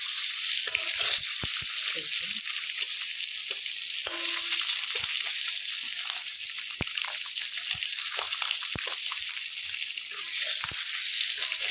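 Eggs frying in a pan over a clay stove: a loud, dense, crackling sizzle runs throughout, with scattered sharp pops and spatters, close by and with no voices.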